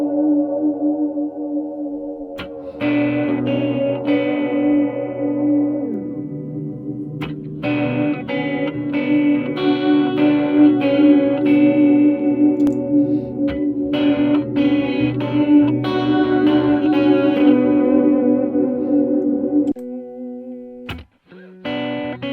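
A synthesizer routed through the effects loop of a Vongon Polyphrase with a Walrus Slöer reverb plays sustained, shimmering chords that swell and layer under heavy modulation and ambience, loud and continuous with no speech.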